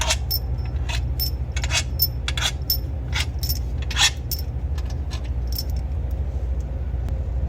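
Metallic clinks and rattles of bolts being taken out of a 2005-2016 Honda Odyssey engine during knock sensor replacement, several sharp scattered ticks and jingles over a steady low hum, close by.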